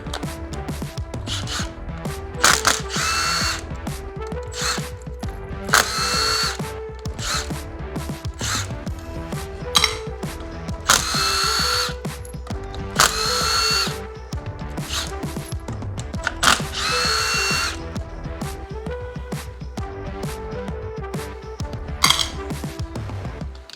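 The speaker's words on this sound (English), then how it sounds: "now we're just gonna take the pressure plate bolts off" A power tool spins out the 10 mm clutch pressure plate bolts on a Kawasaki KFX450R during a Rekluse Radius CX clutch install, with repeated bursts of high whirring between metallic clinks and rattles.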